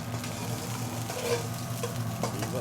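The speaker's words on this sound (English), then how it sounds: "So let's melt down the ghee" Ghee melting in a pan, a soft steady sizzle with faint stirring scrapes and a low hum underneath, fairly quiet and close.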